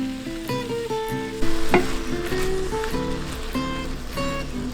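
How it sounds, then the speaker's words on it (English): Impossible meat cooking in a pan, a steady sizzle with scraping stirring strokes throughout, heard under loud background music and without talk. "I'm going to go ahead and cook the impossible meat."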